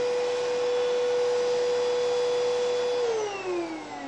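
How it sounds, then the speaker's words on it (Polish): A Hoover Rhapsody RA22HCG cordless upright vacuum runs close by with a steady, high-pitched motor whine and airy rush. Near the end its pitch sags downward as the motor spins down. "gdy odkurzacz pracuje, zanieczyszczenia nie unoszą się, a wręcz są spychane w dół"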